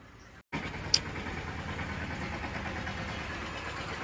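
A tractor engine idles in a steady, even rumble that continues throughout, after a brief dropout and a sharp click near the start.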